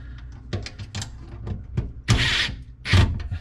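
Hand tightening screws on the mounting ring of an InSinkErator garbage disposal, a series of short close clicks and scrapes with a couple of louder rasping bursts, with no talking.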